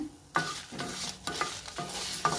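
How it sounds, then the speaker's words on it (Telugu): Dried red chillies frying in a pan make several bursts of stirring and scraping over a sizzling crackle, close and moderately loud, with no voices. "ఎండుమిరపకాయలు వేస్తున్నాను."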